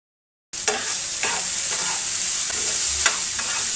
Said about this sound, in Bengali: এই কুচো চিংড়িটাকে হলুদ লবণ দিয়ে হালকা করে একটু ভেজে নেব